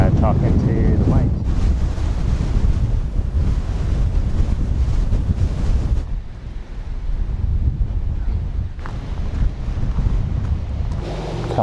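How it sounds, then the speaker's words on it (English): Strong wind gusting on an open New Zealand coastline with surf, buffeting the microphone with loud low rumble throughout, easing briefly midway before picking up again. "it's getting very windy now out in the open."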